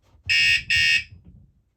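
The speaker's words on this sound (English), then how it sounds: "Now if you touch the board, it'll first sound a warning." Two short, loud electronic warning beeps from a Floatprints vibration alarm in quick succession, close by, each lasting about a quarter second, with a faint rumble underneath.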